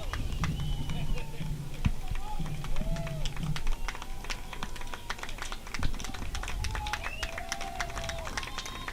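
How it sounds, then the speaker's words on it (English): Baseball fans clap in the stands at a Richmond Jazz at Hamilton Joes game, a steady patter of many hands under ongoing crowd noise with voices talking over it. "Fans clapping here."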